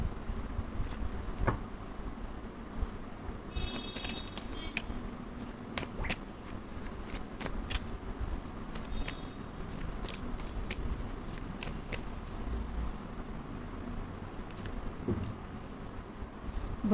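Kali oracle cards being shuffled by hand, a run of soft papery riffles and flicks repeating close up at low volume, with quiet pauses between bursts.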